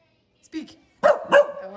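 A pet dog barks twice on command, close by, the short sharp barks separated by a brief pause, with a person speaking briefly just before.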